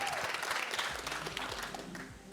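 Brief applause from a small group, steady clapping with a faint crowd murmur under it, fairly close and moderately loud.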